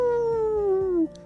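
A voice imitates a wolf's howl: one sustained tone sliding slowly downward for about a second, then cutting off, close and fairly loud.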